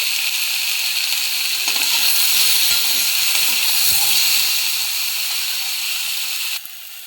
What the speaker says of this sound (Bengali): ওলটা ভেজে নিচ্ছি।